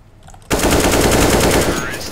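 Sustained rapid automatic gunfire bursts out abruptly and loudly in a Counter-Strike: Global Offensive match on a new wingman-mode map, a dense continuous rattle lasting about two seconds.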